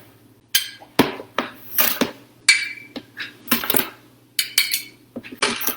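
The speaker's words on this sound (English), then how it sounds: "So I'm scooping out my sugar." Granulated sugar scooped from a container with a metal spoon or measuring cup to mix with cornstarch for a blueberry hand pie filling, heard as a series of sharp scraping clinks and rustles, close and fairly loud, with no talking.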